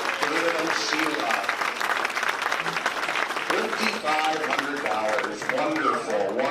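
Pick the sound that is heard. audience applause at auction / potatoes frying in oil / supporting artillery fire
audience applause at auction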